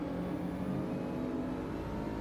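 Cars racing in the video game Trackmania, giving a steady, loud engine drone that holds at an even pitch throughout with no voices.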